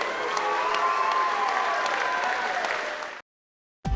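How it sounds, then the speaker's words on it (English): Crowd applause and some cheering for two boxers after a 2011 ABA Elite 75 kg amateur boxing final, loud and sustained for about three seconds before cutting to silence and a brief burst of noise. "Give them a big round of applause"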